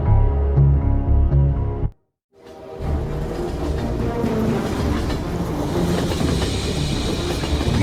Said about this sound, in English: Sounds like someone's coming in on that train.